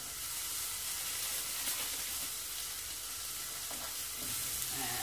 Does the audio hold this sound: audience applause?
no